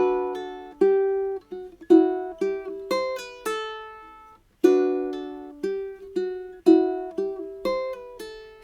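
Fingerstyle ukulele playing a melodic passage from a song, with clear plucked notes, pull-offs and occasional strummed chords in a moderate, flowing rhythm, close and alone.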